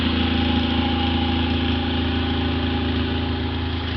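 A straight-piped riding lawn mower engine idles steadily, loud and close, with a rough, even, unmuffled rumble that holds constant throughout and no talking over it.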